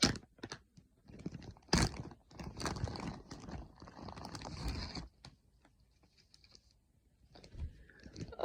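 Crinkly rustling and clicking as a plastic bag full of board game pieces is handled, bursts of crackle and rattling separated by short quiet pauses.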